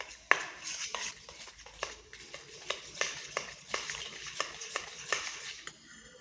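A spoon stirs and mashes sweet dough with a little baking soda in a bowl, scraping and clinking in a steady repeated rhythm for several seconds, close and fairly quiet, with no voices.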